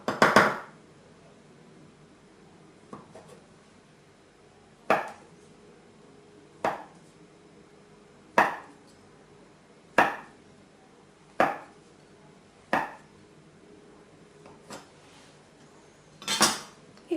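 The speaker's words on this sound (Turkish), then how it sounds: "Bıçağımızı alalım ve yan yan keselim." A knife slices through a long strip of flour cookie dough against a board, giving about ten crisp, close cuts spaced a second or two apart, each a sharp tap on the surface in a quiet kitchen.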